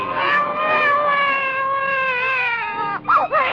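A baby wails in a steady, high, sustained cry with strong harmonics, rising into a couple of sharp upward-bending sobs near the end, close and loud inside a movie theater scene of a 1945 radio comedy.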